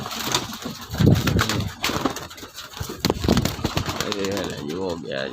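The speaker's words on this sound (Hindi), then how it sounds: "कबूतर भी तंग कर रहे हैं।" Pigeons coo in a low, repeated throaty pattern close by, mixed with flapping and handling noises while someone talks over them.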